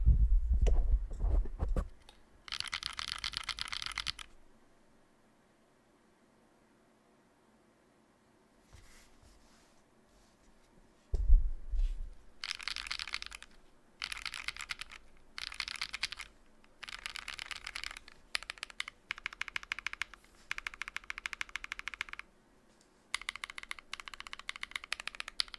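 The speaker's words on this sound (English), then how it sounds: "I'll just press the keys a bunch" Keys pressed repeatedly on a newly built 40% mechanical keyboard, close-up clacking in short bursts with pauses between them and a long quiet gap early on.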